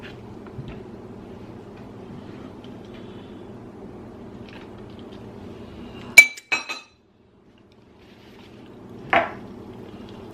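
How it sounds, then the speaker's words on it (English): Heaping spoons of berry added to a glass punch bowl: a low hum first, then a sharp clink against the glass, a few quick taps, a pause, and another clink. "Then you add just a nice little heaping couple spoons of your berry."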